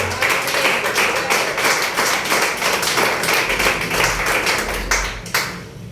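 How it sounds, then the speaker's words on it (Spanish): A church congregation claps during a Spanish-language sermon: dense, loud, sustained applause filling several seconds before fading and breaking off near the end. "Denle un aplauso a nuestro Padre."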